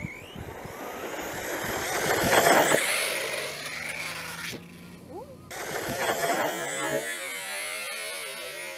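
A dirt bike engine revs on throttle in a video game, a buzzy, raspy whine that swells and fades with the throttle, with a short pause midway, while a voice talks over it.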